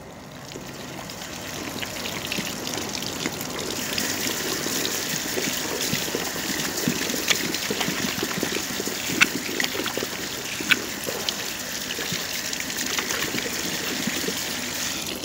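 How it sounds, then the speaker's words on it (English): Tap water runs steadily while someone washes their hands, a constant close trickle and splash with a few faint clicks and knocks. "Tenth, wash your hands."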